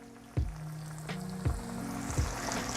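Chicken strips drop into hot oil in a cast iron skillet, each one setting off a fresh thump and burst of sizzling, four in a row over a constant close frying hiss.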